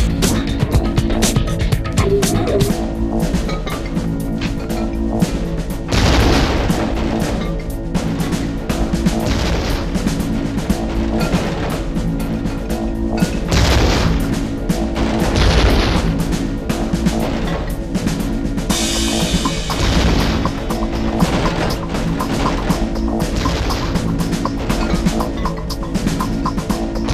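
Grenade explosions go off in a training module of the Spetsnaz shooter video game, a series of deep booms and bursts repeating throughout over a continuous, busy game soundscape.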